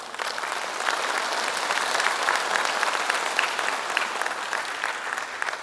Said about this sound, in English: that deserves a clap for the people of Nagaland